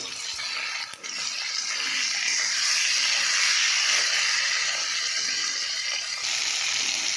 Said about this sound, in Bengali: এই যে পেঁয়াজ আর টমেটো ভাজা ভাজা হয়ে এসছে